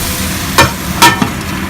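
Vegetables for pulao cooking in a pan, a steady close sizzle broken by two sharp scraping stirs and a lighter knock, with no voices.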